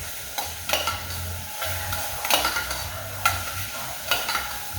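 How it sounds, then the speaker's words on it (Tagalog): Caramelized food in a cooking pan is stirred with a utensil, giving soft scraping strokes and occasional louder clacks over a low steady sizzle, near and without talk. "I'm gonna pour this one. I'm gonna mix."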